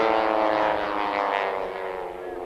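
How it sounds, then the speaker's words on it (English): A propeller aerobatic airplane at the 1992 California International Airshow in Salinas drones loudly overhead, its engine note swelling and shifting in pitch as it maneuvers, then easing slightly as it moves off. "Trying to turn his airplane around upside down."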